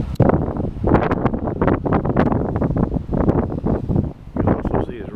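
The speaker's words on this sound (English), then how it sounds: "You can also see it's really windy." Strong, chilly wind buffets the microphone outdoors in a steady roar with gusty swells, while a person talks over it throughout.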